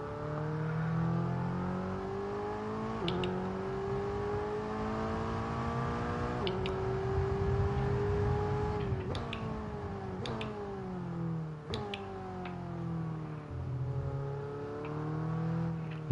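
An F1 car engine from F1 22 at Zandvoort howls steadily, its pitch rising and falling through repeated gear changes and revs, with sharp ticks at each shift and no voices.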